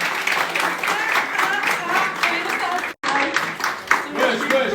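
Audience applause during an elimination announcement at a French show. The clapping runs under a prominent voice that keeps talking over it, broken by a brief cut partway through.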